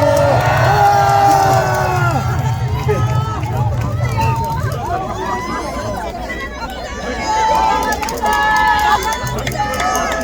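A large crowd at a political rally in Daegu cheers, whoops and claps in a loud continuous roar, with an amplified voice speaking over the noise.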